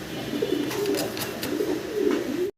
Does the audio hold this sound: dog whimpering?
no